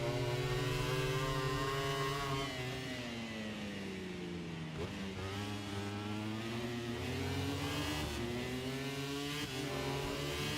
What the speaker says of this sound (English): Let's have a listen to Fabio as he goes through 3.